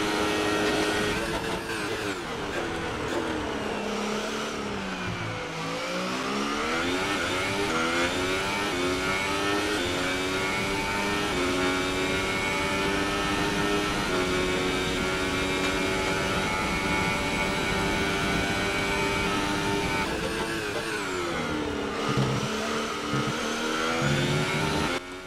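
A Formula 1 race car engine in a video game lap, screaming at high revs with smooth rising pitch through the gears, dipping briefly for braking and downshifts before climbing again, loud and continuous with no talking.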